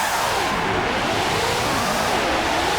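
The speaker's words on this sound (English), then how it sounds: "He's braking hard." A Formula 1 race car in the PlayStation game Formula 1 97 braking hard, its engine whining and roaring steadily and loudly up close for a few seconds with no talk.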